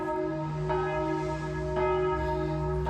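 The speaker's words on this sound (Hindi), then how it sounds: "चर्च की घंटी बज रही है।" A church bell rings steadily in a town, sustained overlapping tones with fresh strikes roughly every second, loud and full, with no voices.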